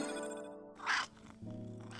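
A cat in the puzzle video game Strange Antiquities gives one brief, faint meow-like cry midway over a soft tonal background hum.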